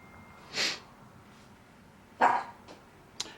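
A few short, sharp dog barks or yips ring out in a quiet room during electronics work, with two separate bursts spaced apart and a brief final yap.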